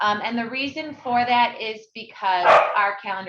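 A dog barks in the background of a board of education meeting, a short, loud outburst that breaks over a speaker who keeps talking steadily throughout.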